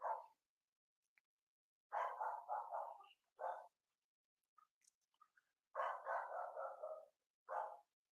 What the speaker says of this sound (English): I do apologize if you can hear my dog in the background.